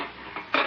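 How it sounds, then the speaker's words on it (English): A child pulls pots and pans out of a kitchen cabinet, making short metallic clanks and rattles that get louder toward the end. "He's having a fine time taking the pots and pans out of the cabinet."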